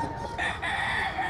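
A rooster crows once up close, a loud sustained cock-a-doodle-doo lasting about a second, over low background noise.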